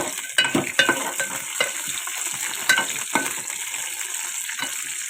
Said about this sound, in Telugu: దానిలో వేరుశెనగ పచ్చిమిర్చి వేసి వేయించుకుంటున్నాను